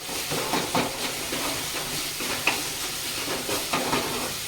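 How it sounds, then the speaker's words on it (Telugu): Onion masala frying in a pan for prawn curry sizzles and hisses steadily, with soft stirring scrapes breaking through now and then. "మసాలా కూడా బాగా ఫ్రై అయిపోవాలి."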